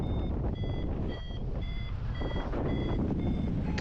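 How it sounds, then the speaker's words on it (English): A flight variometer gives rapid high electronic beeps in quick bursts, signalling strong lift, over a loud rushing wind noise, steady and close. "So all those beeps mean I'm in strong lift."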